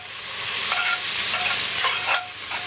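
Diced garlic and browning meat sizzle loudly in a pot for chili con carne while a utensil stirs them in a few sweeping strokes, close with no talking.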